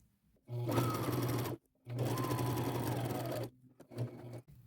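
A sewing machine runs in two sustained bursts with a brief pause between, then a short final spurt, as it double-stitches a pocket onto a layered ruffle crossbody purse, its motor humming steadily.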